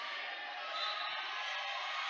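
Basketball crowd in a school gym during a Caldwell County Tigers versus Lyon County Lyons game, cheering and roaring as a steady, dense wash of voices that swells slightly midway.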